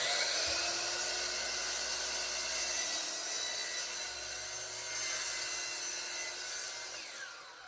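A power saw whines loudly and steadily through a sheet of 1/2-inch plywood, a dense continuous cut that tapers off at the end.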